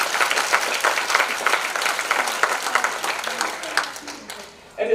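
An audience at a Mercy Manor ministry gathering applauds honored guests, dense steady clapping that thins toward the end before a sudden noise at the close.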